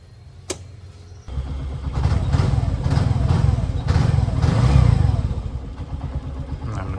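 A scooter engine starts up and runs with a rough, steady putter that swells in loudness and then settles, preceded by a brief click and accompanied by some rattling.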